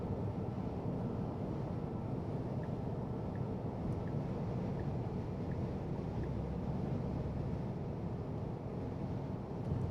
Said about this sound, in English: But it is windy today.